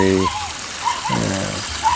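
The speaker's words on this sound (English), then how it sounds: "It's still siphoning a great deal of water out." Water siphons steadily out of a pond through a large 2-inch line with the pump shut off, a soft continuous gushing rush running under a voice.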